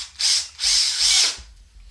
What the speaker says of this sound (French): Je vais percer un peu plus loin.